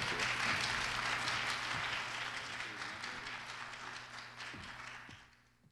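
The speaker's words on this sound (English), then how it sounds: "Have a nice round of applause" Audience applause for a singing contestant at the Pottstown Rotary Performing Arts Competition, a dense burst of clapping that gradually fades over several seconds.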